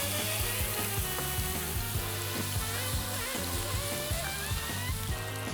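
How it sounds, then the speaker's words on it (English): Liquid poured into a hot frying pan with onions for mushroom bulgogi sets off a loud, steady sizzle, with faint clicks of a utensil against the pan. "we're gonna pour our liquid right here"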